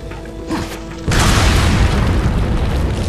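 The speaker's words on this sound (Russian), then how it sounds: "Нет, три гранаты. Ладно, одну кину." A grenade blast in Resident Evil 4: after a moment of quiet game ambience with a small click, a sudden loud, broad boom erupts and rumbles on for about two seconds without fading much.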